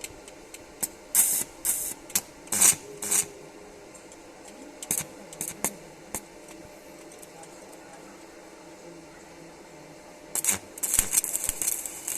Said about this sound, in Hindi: हम 90 करंट पे वेल्ड करेंगे।